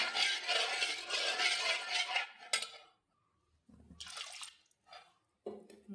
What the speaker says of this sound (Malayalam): നമുക്ക് കുറച്ച് വെള്ളം കൂടെ വേണം ഒഴിക്കാം